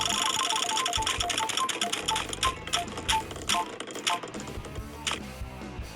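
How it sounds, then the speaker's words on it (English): In a Blue Lock soccer team-picking game, a prize wheel spins with a dense stream of rapid clicks that gradually slow and spread apart as it winds down. "Spinning the wheel again."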